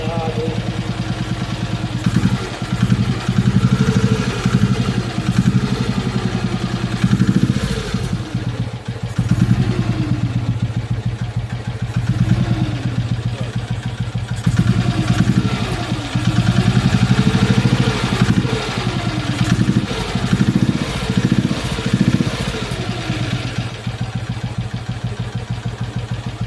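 A BSA B31 single-cylinder motorcycle engine runs as it warms up toward idle, a loud close thumping rumble with mechanical clatter that swells and eases with occasional blips of the throttle, steady for the whole stretch with no speech.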